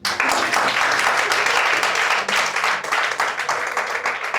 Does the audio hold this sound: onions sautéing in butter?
no